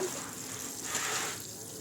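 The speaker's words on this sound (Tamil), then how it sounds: "இப்போ நம்ம தண்ணி விடுறோம் வேர்க்கு" Water poured over the roots of newly planted marigolds, a steady close gush and splash that swells briefly midway, with no voices.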